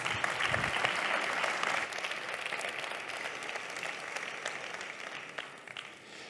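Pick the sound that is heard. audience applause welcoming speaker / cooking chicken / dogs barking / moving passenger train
audience applause welcoming speaker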